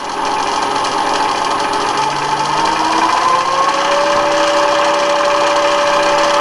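An Emco V10-P lathe's motor runs on a newly installed VFD, a loud steady hum whose electronic whine rises in pitch midway and then holds level, close and without speech.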